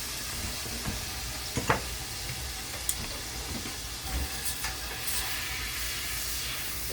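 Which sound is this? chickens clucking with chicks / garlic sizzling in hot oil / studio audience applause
garlic sizzling in hot oil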